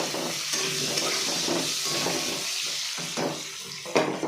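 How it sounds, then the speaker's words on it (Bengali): Potatoes sizzle and crackle steadily as they fry in hot oil with a little turmeric, with occasional stirring scrapes and a brief louder clatter near the end. "একটু ভাজা ভাজা হোক"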